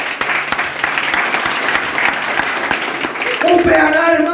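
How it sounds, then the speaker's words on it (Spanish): A church congregation at a Guaraní-language sermon breaks into loud, sustained applause, a dense wash of clapping close by, with a voice rising over it near the end. "Un fuerte aplauso al Señor."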